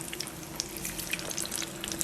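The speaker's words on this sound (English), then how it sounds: "we're just going to fry these until they're nice and golden brown" Shami kebabs frying in a pan, with a steady loud sizzle and scattered crackling pops throughout, no voices.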